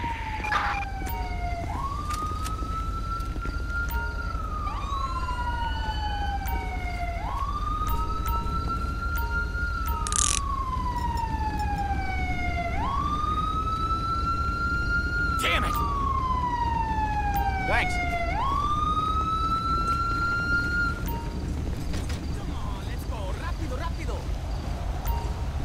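Ambulance siren in the LSPDFR police video game, a continuous wailing sweep that rises and falls repeatedly with a yelping edge, loud and steady over an engine hum throughout.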